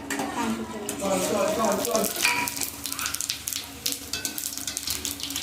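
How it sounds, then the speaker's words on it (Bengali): Bay leaves, dried red chillies, cumin and whole garam masala sizzle and crackle in hot oil, loud at first and then thinning into scattered pops, with a voice talking over the frying. "ফোড়নের মধ্যে নিয়ে নিয়েছি তেজপাতা দুটো তেজপাতা বড় বড় দুটো শুকনো লঙ্কা একটু সামান্য জিরে আর এখানে আছে গোটা গরম মশলা এইগুলো সব আমি ফোড়ন দিয়ে দেবো"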